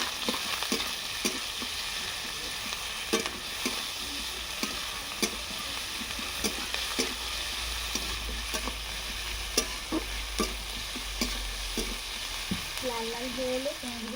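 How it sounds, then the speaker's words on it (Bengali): Chopped garlic and onion fry in hot oil with a steady, close sizzle. Regular scraping stirs punctuate it, and there is no talking. "ভালো করে ভেজে নিই।"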